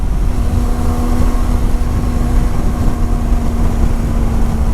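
A Benelli TRK 502X motorcycle being ridden, its engine giving a loud, steady drone with a constant tonal hum and rushing wind noise, unbroken throughout.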